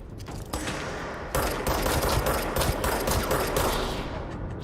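Sniper fire and dense gunfire from the video game Control crackle steadily through a boss-fight finale, loud and continuous after a brief quieter opening, with a burst of rapid shots layered over a busy combat din.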